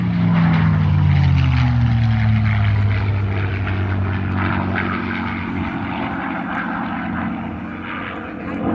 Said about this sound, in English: The P-51 Mustang,